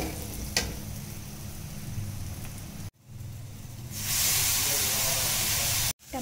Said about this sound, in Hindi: और इसे मिक्स करके टमाटर की प्योरी ऐड कर देंगे इसमें